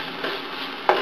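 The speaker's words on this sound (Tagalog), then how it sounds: "Saute lang natin siya." Onion added to browned garlic sautés in a pan for a chicken curry, a steady soft sizzle with a brief stir at the start and a louder scrape of utensil near the end.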